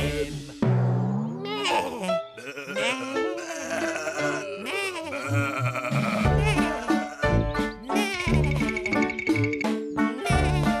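Sheep bleating in a children's nursery-rhyme performance of Little Bo Peep, with wavering bleats running continuously over music and singing voices throughout.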